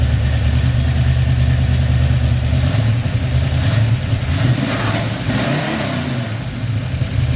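An Oldsmobile Cutlass with newly fitted exhaust rumbles at idle close by at Joe Buddy Racing, a deep, loud, lumpy burble with slight rises in revs, no talking over it.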